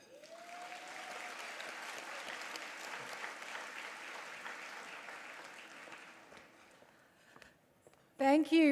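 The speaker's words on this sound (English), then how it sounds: "can we give Uncle Michael one more round of applause?" An awards-ceremony audience at a security industry event gives a long round of applause, a dense, moderate wash of many hands that gradually fades, followed by a brief loud sound at the end.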